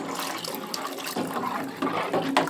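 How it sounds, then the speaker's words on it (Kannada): Water poured into a thick cooking masala for bassaru, a close continuous splashing and bubbling pour with small clattering touches, no talking. "ಸ್ವಲ್ಪ ನೀರು ಕೂಡ ಹಾಕೊತಾ ಇದ್ದೀನಿ ಇದಕ್ಕೆ"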